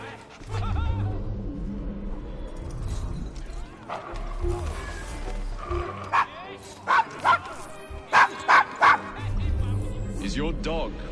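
Dog barking in Assassin's Creed Syndicate, set in London's rough Devil's Acre district: several sharp, loud barks in a rapid cluster toward the end, with game voices and background noise throughout.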